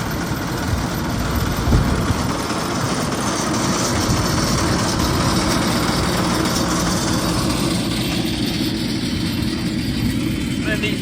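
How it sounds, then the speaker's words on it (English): A core aerator machine punches holes in a golf green, pulling 12mm-wide plugs, its engine giving a steady, loud, low droning rumble with a clattering mechanical texture that runs the whole time, close by. "out comes the core machine"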